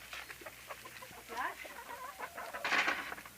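Several chickens cluck and murmur nearby, with short rising calls and a louder squawk near the end against a quiet background.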